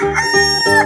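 A cartoon chicken crows a stylized cock-a-doodle-doo, a close, loud call in about three voiced swells, each a tonal, harmonic-rich note rising and falling across under a second, with no talking over it.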